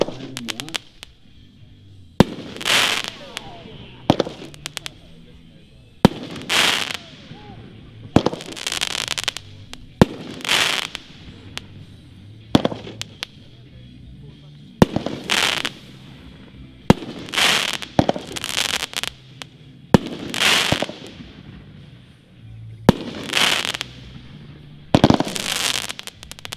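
A Pyro Predator Global Dominance 10-shot, 500-gram firework cake fires its shots about two seconds apart outdoors, each a sharp launch thump followed by a loud burst and crackle echoing in the distance.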